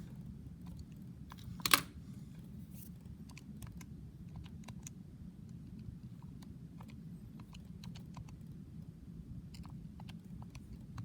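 Someone types on a graphing calculator keypad, producing soft, irregular, close-up button clicks over a quiet low hum, with one sharper click near the start.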